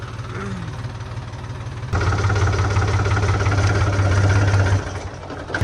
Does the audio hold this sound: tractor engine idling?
yes